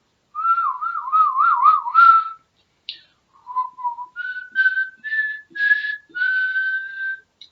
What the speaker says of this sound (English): Okay, what about whistling?